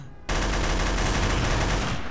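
Sustained automatic gunfire in Counter-Strike: Source, a continuous loud spray of rapid shots after a sudden start, close and dense, no talking over it.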